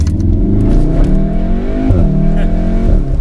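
Close, loud VW Golf R engine accelerating hard and briefly breaking traction, the rising revs shifting pitch in short steps with a gear change, under faint talk.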